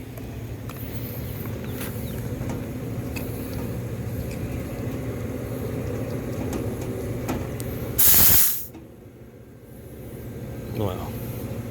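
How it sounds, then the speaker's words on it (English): Nitrogen gas is released into a Trane unit to find a refrigerant leak, producing a loud, close burst of hissing that lasts under a second after a long stretch of steady machinery hum, then fades to quieter background noise. "Let's get some nitrogen on it, see if we can see where the leak's at"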